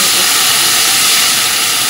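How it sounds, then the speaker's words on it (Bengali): Loud, steady sizzling hiss as water hits chillies fried with cumin and garlic in a hot pan, a continuous close steam roar with no pause. "লঙ্কাটা ভাজা ভাজা হয়ে গেছে, এবার পরিমাণ মতন জল দিয়ে দেবো"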